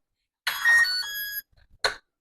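A kitchen timer goes off when the cooking time for jambalaya ends. It gives a loud, harmonic electronic beep of about a second, then after a short pause a second short burst. No speech is heard.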